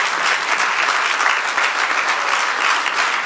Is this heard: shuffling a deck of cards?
no